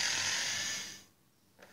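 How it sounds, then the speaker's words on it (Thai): A drill bores into the floor in the prison escape video game Escaping the Prison: a loud, steady grinding whir runs for about a second, then cuts off, with a faint brief knock shortly after. "มันสว่านเจาะพื้น"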